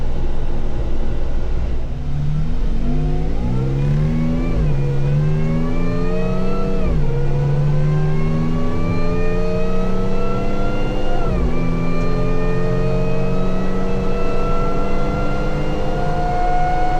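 A Jeep Wrangler JK with a swapped-in 8-speed transmission drives on a road, its engine rising steadily in pitch as it accelerates. It shifts up twice, with a brief dip at each shift, under a constant loud road and cabin drone.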